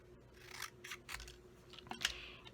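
A paper label cut in half with scissors: several short, crisp snips and soft rubbing of paper, quiet and close, with small pauses between cuts.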